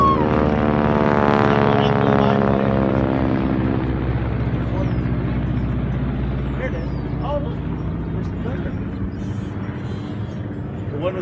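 A North American 86 propeller aircraft flies over during a Memorial Day flyover, its loud droning engine passing and Doppler-sliding downward as it recedes over about eleven seconds.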